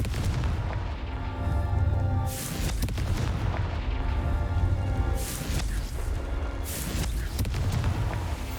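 A blasting-spell explosion in the Hogwarts Legacy video game: loud, dense booming blasts with rumbling low end, repeating in heavy waves across the stretch with bursts of crackle, no talking.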